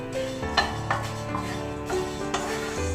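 Coriander and cumin seeds being dry roasted in a hot pan, giving a continuous rustling scrape as they are stirred, with a few brief louder scratches and a low steady hum beneath.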